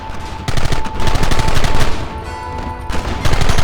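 Rapid, dense gunfire from a Red Dead Redemption shootout: volleys of overlapping shots, some in quick automatic bursts, rattle almost continuously and loudly throughout, with no talking.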